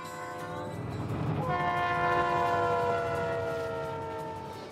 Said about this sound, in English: Wow, that is one long train.